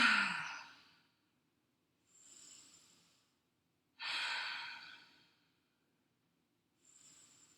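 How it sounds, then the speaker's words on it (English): Four slow, audible exhales come one after another from someone lying in a reclined figure 4 stretch. Each is a soft, breathy sigh with silence between them, and the first and third are stronger than the others. "Pay particular attention to your exhales here."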